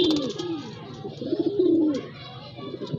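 A pigeon coos on a rooftop, low throaty rolling calls in a couple of close phrases, with faint voices and ambient outdoor noise around it.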